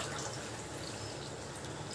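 Water pours steadily into ordinary household rice in a cooking pot for marriage-style brinji, a soft, even trickling and splashing that continues without break, with no speech.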